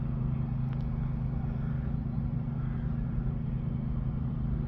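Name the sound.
vintage tractor engine running at low revs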